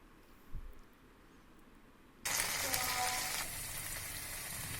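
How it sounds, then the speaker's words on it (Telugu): A ground spice paste for chana masala drops into hot oil. After a quiet start, a loud, steady sizzle and crackle takes over and keeps going. "ఇప్పుడు ముందుగా రుబ్బి పెట్టుకున్న పేస్ట్ను కూడా వేసి ఫ్రై చేసుకోవాలి."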